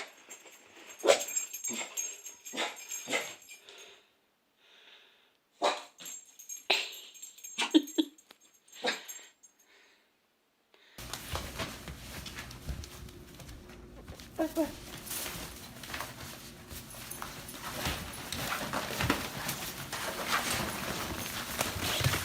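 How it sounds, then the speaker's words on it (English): A dog whimpers in a series of short, high-pitched bursts, then a denser, steady noisy stretch takes over for the rest of the clip. "Oh, it's another dog."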